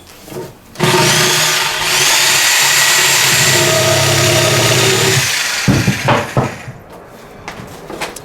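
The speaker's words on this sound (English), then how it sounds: "we're going to finish the cut with the Sawzall" A Sawzall reciprocating saw cuts through an old barn beam, a loud, steady buzzing cut of about five seconds that then stops, followed by some clattering handling sounds.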